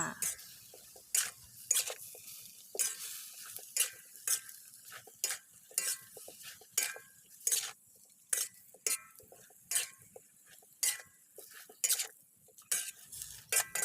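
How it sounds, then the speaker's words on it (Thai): Chicken and vegetables with seasoning powder, salt and sweet dark soy sauce being stir-fried in a pan for a chicken chap chai soup, a utensil scraping and clinking against the pan in steady repeated strokes under a soft sizzle, with no talking. "ผัดคลุกเคล้าส่วนผสมทุกอย่างให้เข้ากันดีค่ะ"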